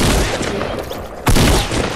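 Rapid bursts of gunfire in the video game Fortnite form a dense, loud fusillade that dips briefly and then surges back even harder partway through.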